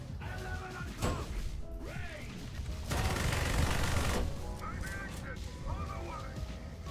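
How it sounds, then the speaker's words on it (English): Dual machine guns firing in a video game, rapid crackling bursts with a loud sustained volley in the middle, under a player talking throughout. "we're just sniping people with a dual machine gun"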